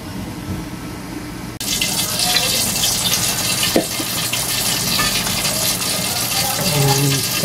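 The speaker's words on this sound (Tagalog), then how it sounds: "Tapos lagyan na natin ng gata." Coconut milk pours into chicken curry in a pot with a sudden gushing, splashing rush that continues steadily, and a few faint clinks sound under it.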